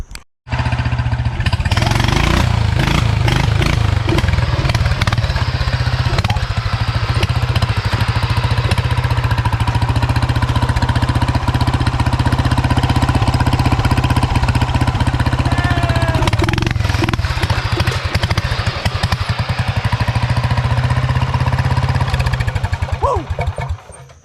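A competition tractor engine runs loud and continuous for over twenty seconds, with a rough, throbbing roar that holds steady throughout.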